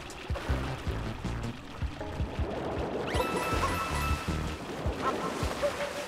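Water floods and rushes in the Lake Kingdom of Super Mario Odyssey, a steady surging wash with rhythmic watery thumps and a bright shimmer partway through, under game music.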